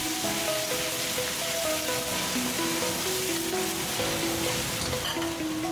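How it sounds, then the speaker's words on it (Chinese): Pork ribs being stir-fried over high heat in a wok with ginger slices, star anise and Sichuan pepper give a steady, close sizzle, with faint tonal music running underneath. "大火快速翻炒均匀。"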